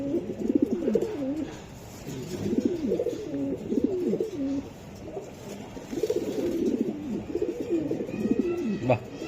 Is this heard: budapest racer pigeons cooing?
yes